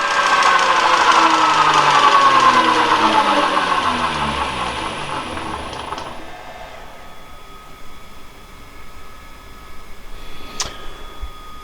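The motor of an Emco V10-P milling machine runs steadily with a whirring hum, then winds down to a quieter, lower drone; close by with no talking.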